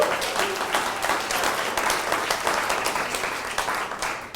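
Audience applause at an Orthodox Jewish center for Christian understanding and cooperation, a dense steady patter of many hands clapping throughout at moderate loudness, with no voices over it.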